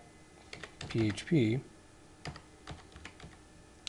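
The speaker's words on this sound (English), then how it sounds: "So I'm just going to type in kill.php" Keys clatter on a computer keyboard as a short filename is typed, a quick burst of crisp clicks followed by a few scattered taps, close and fairly quiet, with a brief spoken phrase in the middle.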